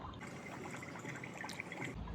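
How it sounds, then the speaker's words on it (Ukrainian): Water pours from a small filled flask into a Beast Lab shark toy laboratory, a faint, steady trickle and splash that runs evenly throughout. "наповнюємо маленьку колбочку водою до максимуму та вливаємо в лабораторію"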